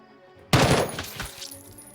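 Video game gunfire bursts out sharply after a short quiet lead-in, a loud close volley of rapid shots that rings and decays into scattered rattling.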